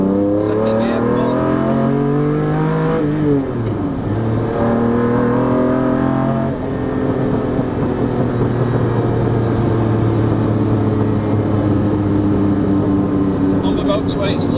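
A Lamborghini Diablo SV accelerates hard in second gear, its engine note climbing loudly in pitch, dipping at a shift, then pulling and rising again as it stays close and dominant throughout.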